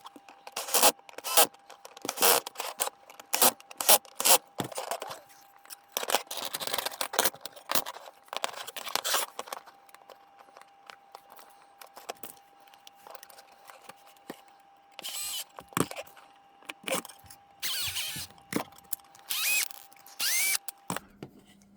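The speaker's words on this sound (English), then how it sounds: "and then you tighten all the screws" Screws being tightened on a 1/14 scale steel-plated CAT 973K model, with repeated bursts of a small power driver whirring and scraping at close range, broken up by brief pauses.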